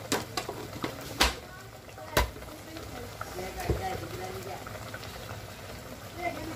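Ground spices (chilli, turmeric, coriander and garam masala) fry in a pan as a continuous sizzle and bubbling, broken by a few sharp clinks of a spoon.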